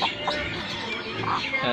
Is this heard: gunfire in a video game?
no